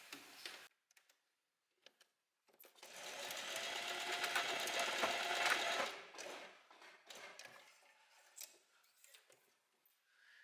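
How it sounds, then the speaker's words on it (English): Sewing machine stitching a strap onto one layer of dress fabric for an open-back maxi dress: a few isolated clicks, then a steady whirring run of about three seconds that stops, followed by faint handling ticks. "So you really just want to sew the strap onto this one layer of fabric."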